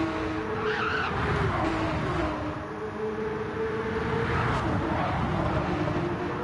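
A Porsche Cup race car in a racing game slides with a sustained tire squeal over a steady engine drone, the screech rising and falling across several seconds, loud and continuous.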